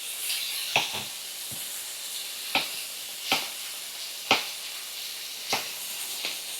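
Tomatoes dropped into a hot pan sizzle and fry with a steady soft hiss, broken by several sharp crackles and spits at irregular intervals, close and fairly quiet.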